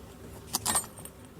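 Small Christmas bells jingle briefly while being handled during holiday decoration crafting, a couple of quick light metallic shakes, quiet and close with no talking.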